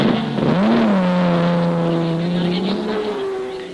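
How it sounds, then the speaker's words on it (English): A 1971 Ferrari race car pulls away from a pit stop after a tyre change and accelerates, its loud engine note climbing steadily and holding close before easing slightly at the end. "And off goes the Parks Ferrari"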